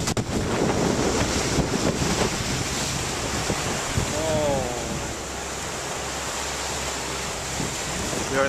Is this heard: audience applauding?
no